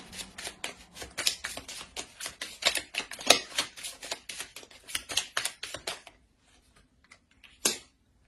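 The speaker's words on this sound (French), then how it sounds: "Je vais rajouter une carte sur celle-ci." Tarot cards are drawn and placed, giving a dense run of quick papery flicks and riffles for about six seconds, then a pause and one last sharp snap, close and alone.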